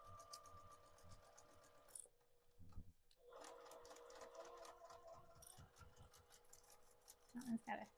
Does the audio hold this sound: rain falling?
no